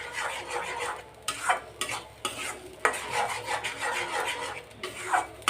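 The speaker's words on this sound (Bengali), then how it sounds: "এখন এই যেটাকে আমি নেড়ে চেড়ে একটু ভাজা ভাজা করে নিব" Bottle gourd peel mash is stirred and fried in a pan, making a steady scraping rasp with a soft sizzle and repeated strokes of the utensil at close range.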